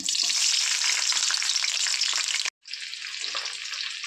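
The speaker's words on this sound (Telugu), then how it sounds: "నూనె వేడెక్కింది కదా ఆవాలు వేసుకుందాం చిట్టికెడ ఆవాలు ఆనియన్స్ వేస్తున్నాను" Mustard seeds and onions hit hot oil for a mushroom curry, a loud, close, dense sizzle that cuts out briefly and then resumes slightly softer, with no talk.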